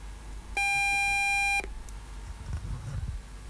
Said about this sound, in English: this is the ELT signal, this beep